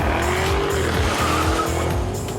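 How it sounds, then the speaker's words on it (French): A race car running on alcohol fuel skids around a track, its tyres squealing loudly and continuously over the roaring engine throughout. "Regardez ce dérapage, joli!"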